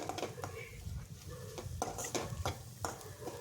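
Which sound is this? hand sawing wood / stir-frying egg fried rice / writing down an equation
stir-frying egg fried rice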